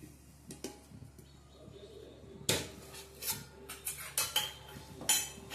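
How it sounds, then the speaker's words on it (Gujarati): A metal wok clanks down onto a gas stove, followed by several more short clattering knocks of metal on metal, close by. "એના માટે આપણે ગેસ ચાલુ કરીશું અને ઉપર કઢાઈ મૂકી દઈશું"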